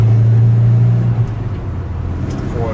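A 1987 Toyota pickup with a manual gearbox accelerating in third gear, a loud steady engine drone close by with wind and road noise.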